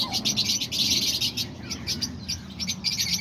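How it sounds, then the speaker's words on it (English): Pet parakeets, lovebirds and a cockatiel chirp in a steady overlapping chatter of quick tweets, close and moderately loud, with no talking. "Like I do the parakeets, the lovebirds, and the cockatiel."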